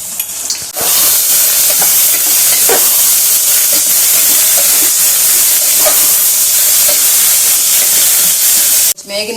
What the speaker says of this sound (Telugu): ఇప్పుడు కందిపప్పు వేసేసుకుందాము. ఇవి కూడా వేయించుకుందాము కొంచెము.